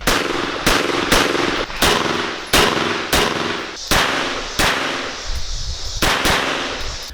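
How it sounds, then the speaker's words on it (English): A 1911-style XTM22 pistol in .22 Magnum is fired at a range in a rapid string of about eleven loud, sharp shots, each with a short ringing echo. "Range time, this is a soft shooter."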